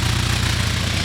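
An idling Jetta truck rumbles steadily at the exhaust, where loose paper flaps in a fast, even flutter over the low, continuous engine drone, close and loud without any talking.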